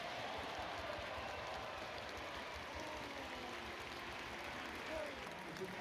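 Fans applauding Harborough Town players and staff after an FA Cup football match against Reading, a steady wash of distant crowd clapping with a commentator talking over it.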